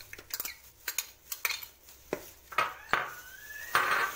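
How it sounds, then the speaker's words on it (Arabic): Ingredients for tuna and white-sauce pasta are stirred in a pan, with a series of sharp metal utensil clinks and scrapes against the cookware, some ringing briefly, close and moderately loud. "هقلب المكونات دي كلها على بعضها"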